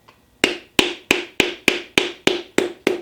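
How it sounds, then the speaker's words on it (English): A piston is tapped down into a Jeep 4.0 engine cylinder through a ring compressor, nine crisp, evenly spaced taps that are close and loud, each ringing briefly. "We're just tapping until that piston slides down into place."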